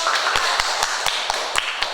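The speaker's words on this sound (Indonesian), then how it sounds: "Beri tepuk tangan untuk" Brisk, regular clapping from what sounds like just a few hands in a classroom, sharp claps repeating several times a second for a moment.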